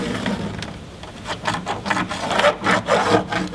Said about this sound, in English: now I'm gonna take my straight edge here and mark where this stud is